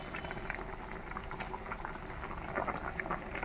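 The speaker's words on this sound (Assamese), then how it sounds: "এতিয়া উতল আহি আছে, গতিকে আৰু অলপ সময় উতলিব লাগিব।" Curry bubbles steadily in a pot, a soft, continuous simmering burble with faint pops, fairly quiet and close.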